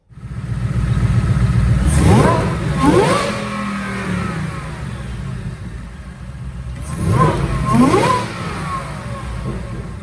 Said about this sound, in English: We're gonna make a dyno pull, take a little bit closer look.